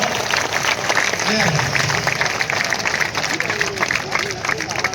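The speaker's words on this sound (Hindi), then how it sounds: "एक बार दोनों हाथ उठाकर तालियां बजाकर दे" Sustained applause from a crowd at a Hindi poetry gathering, an all-India kavi sammelan in Baraut, Baghpat. It forms a dense, steady wash of clapping with a voice carrying over it.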